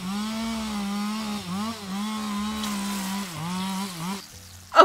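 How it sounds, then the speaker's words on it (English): In the video game Kindergarten 2, a chainsaw buzzes continuously with wavering pitch dips as it bites in, running for several seconds before stopping with a sharp bright hit at the end. "A chainsaw! Perfect. Let's get slicing."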